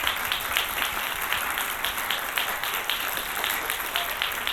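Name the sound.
audience applause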